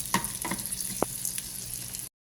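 Onion and garlic sautéing in a pan for buttered garlic longganisa, a steady close sizzle with a few scattered clinks and scrapes of a utensil, no voices.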